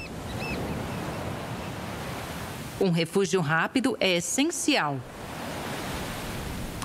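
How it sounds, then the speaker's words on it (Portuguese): Powerful ocean waves breaking on an African shore, a steady roaring wash of surf heard throughout, with someone narrating over the middle portion. "As ondas aqui são poderosas"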